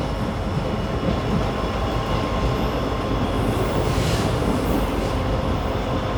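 A passenger train rolls into Channapatna station on the fast Mangaluru–Bengaluru run, heard from on board as a steady, loud rumble of wheels and carriage noise with faint rail clatter and no talk.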